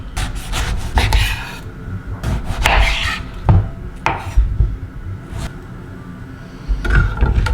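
Knife chopping a mango on a cutting board, a run of close, sharp taps and scraping cuts in uneven bursts with short pauses between.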